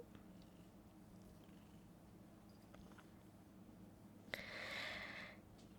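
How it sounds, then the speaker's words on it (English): A cat purring softly in a steady low rumble, close by and quiet, with a brief higher chirp near the end. "I don't know if you can hear him purring."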